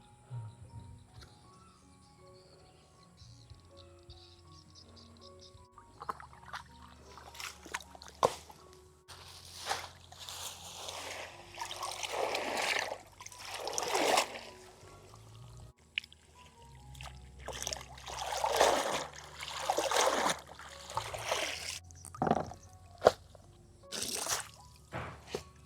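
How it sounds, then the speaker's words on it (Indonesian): River water sloshing and dripping as freshly harvested spinach is rinsed by hand in a stream, with irregular splashes and wet squishing bursts that come and go, fairly close, with long quieter gaps between. "Ini kita cuci di sungai dulu teman-teman."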